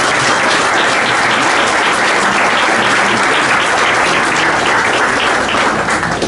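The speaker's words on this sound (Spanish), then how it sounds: "se merecen un gran aplauso y se lo voy a pedir para ellos" Steady, dense audience applause at a university debate on constitutional reforms, honoring the deputies who took part; loud and sustained throughout without a break.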